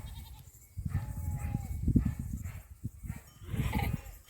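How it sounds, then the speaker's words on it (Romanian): A flock of sheep on a mountain pasture bleats in scattered, overlapping calls, some close and some farther off, over a low rumble of wind. "Și cu turma de oi."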